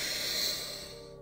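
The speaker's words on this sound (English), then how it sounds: "I'm going to breathe in now. Inhale." One person takes a single deep, steady breath in through the nose, close and soft, with a breathy airy hiss that fades out at the end.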